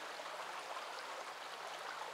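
A creek flowing outdoors, a steady broadband rush of water with no pauses, even and moderately soft throughout, no voices.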